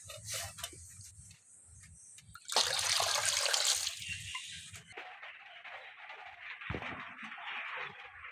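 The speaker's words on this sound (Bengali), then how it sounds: "এর থেকে এই কোটা করে আমি কিছুটা দুধ দিয়ে দিচ্ছি" Milk poured from a small measuring container into a biryani broth splashes in a brief liquid gush midway, with quieter trickling and faint background noise before and after.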